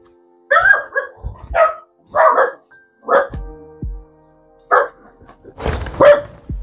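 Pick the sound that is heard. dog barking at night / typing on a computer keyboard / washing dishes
dog barking at night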